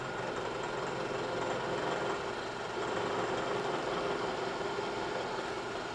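End mill on a milling machine slowly cutting hardened material at 250 RPM, a steady low machine drone and grinding hum held at even loudness throughout, with no talking.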